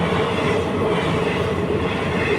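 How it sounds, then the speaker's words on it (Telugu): An express train rushes past at speed at night, a loud, continuous rumbling roar of wheels and carriages holding steady throughout with no voices. "ఒక ట్రైన్ వచ్చేస్తుంది. ఎక్స్ప్రెస్ లాగా ఉంది, బాగా స్పీడ్కి వెళ్తుందండి ట్రైన్."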